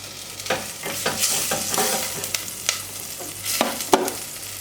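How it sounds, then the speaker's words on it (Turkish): Butter sizzles and crackles in a hot pot with olive oil, a steady frying hiss with scattered sharp pops and occasional scraping clinks close by. "Tereyağımızı tenceremize alıyoruz."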